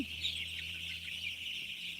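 Day-old chicks in a heated brooder chirping nonstop, a dense chorus of high peeping from many birds close by, with a low steady hum underneath.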